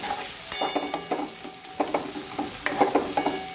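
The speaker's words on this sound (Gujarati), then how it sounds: "હવે આપણે ટામેટું કાપીને મૂકેલું નાખી દઈશું અને ટામેટાને પણ સરસ શેકાવી દઈશું" Chopped tomato tipped into a pan of sautéed onion, frying with a steady sizzle and repeated scraping stirs of a spoon, close and moderately loud, with no talking.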